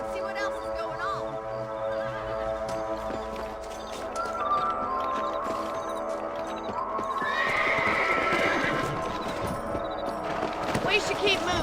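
Horses neigh and whinny while hooves clop and pound in a quick gallop in the video game Red Dead Redemption, with a musical backdrop and some voices mixed in.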